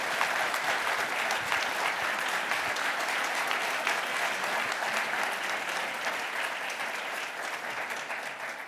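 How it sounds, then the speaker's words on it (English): An audience at a forum on democracy gives a woman sustained applause, a thick, even roar of many hands clapping that holds steady for several seconds before easing slightly. "can we give her a round of applause?"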